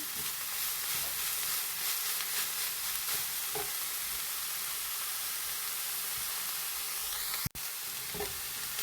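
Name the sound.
spinach leaves sizzling as they wilt in hot oil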